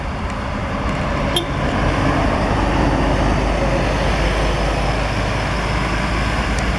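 A double-decker coach pulls out of the Brasília bus station, its engine rumbling steadily amid continuous traffic noise, with no talk over it.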